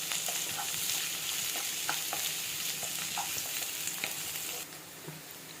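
Green beans stir-fried with salt over high heat in a pan, a steady close sizzle with scattered scraping and tossing clicks, the sizzle thinning slightly near the end; no one talks.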